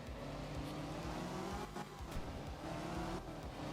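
Rally car engine in Art of Rally, steady loud revving drone with a few sharp popping backfire bursts breaking through near the middle and end.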